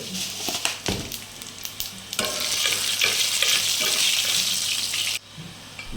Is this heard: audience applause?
no